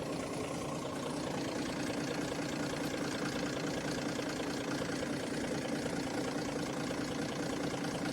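An Allis-Chalmers D17 diesel tractor idles close by in cold winter weather, giving a steady, continuous low rumble with an even knocking chug and no breaks.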